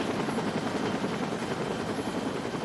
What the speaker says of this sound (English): A Metro-Dade air rescue helicopter transported Pat to Mercy Hospital in Miami